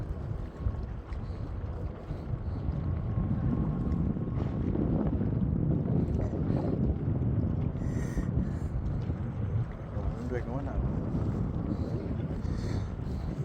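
Cold wind blowing outdoors by the water in Norway, a loud, continuous roar and rush of gusts buffeting the microphone.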